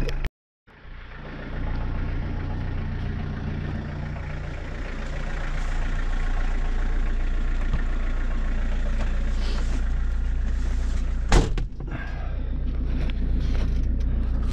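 A car engine idles while warming up ahead of a vehicle inspection, a steady deep rumble that catches after a brief silence and holds close and even, with one sharp knock partway through.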